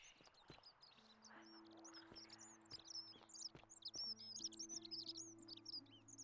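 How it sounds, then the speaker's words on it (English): Loud birds chirp and call in rapid, overlapping bursts over a steady low tonal hum and occasional taps in the video game The Forgotten City. "Those are loud birds."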